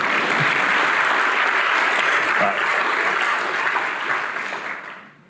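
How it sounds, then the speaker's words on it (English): Steady, dense applause from an audience at a county mayor's budget address, filling the room at full volume for several seconds before tapering off and fading out at the end. "let's give them a round of applause"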